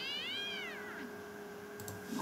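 A cartoonish cat meow for the Cat Cannoneer card in the video game Shadowverse, one rising and falling mew at the start that fades out, followed by a faint click near the end.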